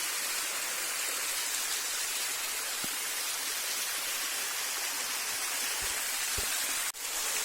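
Flowing water from a small hidden waterfall, a steady broad rushing hiss throughout with a couple of faint knocks near the end, no voices.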